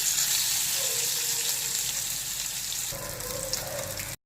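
Eggplant pieces sizzling in hot oil, a continuous close hiss and crackle with a brief shift midway as they are turned, no voices.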